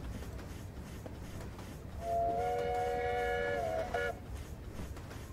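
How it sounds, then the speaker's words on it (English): A narrow gauge steam locomotive on the Welsh Highland Railway sounds its whistle, a loud sustained chord lasting about two seconds over the rumble and clatter of the moving train. "And those lovely whistles as well."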